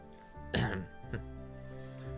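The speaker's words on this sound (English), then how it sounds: "I loudly clear my throat." A single loud, rough throat clearing in the video game Princess Guard Quest rises over a steady tonal background, followed by a smaller second rasp a moment later.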